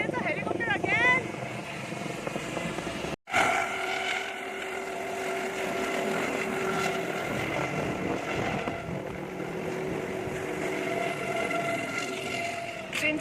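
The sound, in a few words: helicopter flying overhead at a fun fair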